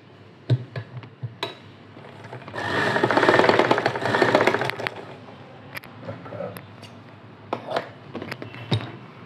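A sewing machine runs a stitching line for an invisible hanging design, a dense rapid whirring burst in the middle framed by sharp ticks and clicks of the mechanism before and after.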